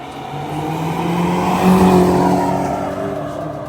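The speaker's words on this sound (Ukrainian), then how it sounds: "Це поїхала М62 Б44 Ромчика і там турка" A powerful BMW M62 B44 V8 engine with a turbo revs and pulls away nearby, swelling louder as it accelerates, then easing off as it moves away.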